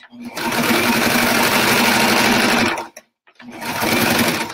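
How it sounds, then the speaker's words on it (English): A sewing machine stitches a pillow cover seam, a loud steady whirring buzz for about three seconds, a brief stop, then the motor running again. "you can backstitch a bit if you want, just to make sure that seam doesn't come out"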